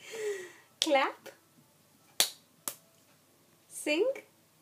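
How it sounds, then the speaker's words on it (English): A young child claps twice in quick succession, sharp close hand smacks set between short bursts of her own voice as she names and acts out sounds. "Clap."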